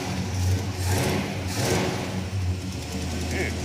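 An old car engine being started and revved in a garage: a steady low rumble with a few swelling surges of revving over background noise.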